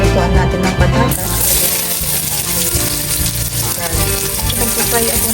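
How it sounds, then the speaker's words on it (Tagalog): Potatoes frying in oil in a wok-style pan, a loud, steady sizzle with scraping and clattering stir sounds, no talking. "Na-fry natin sa mantika."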